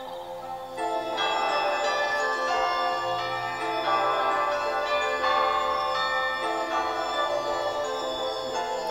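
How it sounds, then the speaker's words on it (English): A large wind chime in a PlayStation 1 video game rings with layered, sustained metallic tones that swell and shimmer continuously, fairly loud and steady with no talking. "That's a big bloody wind chime."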